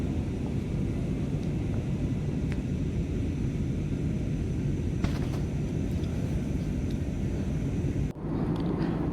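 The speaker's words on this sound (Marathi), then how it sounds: "पाच वीसला आपल्या विमानाने टेक ऑफ केलेला आहे" Constant low roar of an airplane engine heard from inside the cabin on a Hyderabad to Mumbai flight, steady and droning throughout, with a few faint clicks and no talking.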